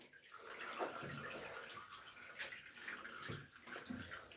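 Water drains from a bathtub after a Labrador retriever has been washed, a quiet, continuous gurgling swish with soft irregular splashes and no talk.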